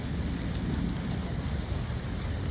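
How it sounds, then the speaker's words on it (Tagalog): Steady, dense rain pours without a break, a close continuous hiss with no voices. "Umuulan ngayon, guys."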